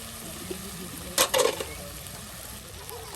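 Spice masala being fried and stirred in a pan while cooking dal in a village kitchen, with a low sizzle broken by a short burst of scraping and stirring.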